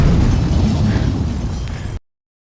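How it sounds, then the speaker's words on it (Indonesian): A large explosion in a film scene, where blasts destroy an area, produces a heavy, loud, low-pitched rumbling roar. It lasts about two seconds, fades slightly, then stops abruptly. "Beberapa saat kemudian, ledakan besar menghancurkan kawasan itu."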